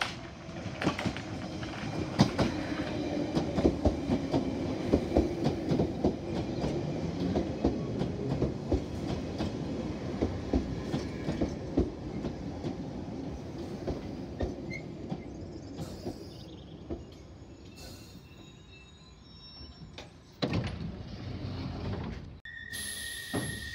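London Underground Piccadilly Line 1973 stock train pulling out of Oakwood station, a steady rolling rumble with rhythmic wheel clatter heard from inside the carriage, then door and cab sounds near the end.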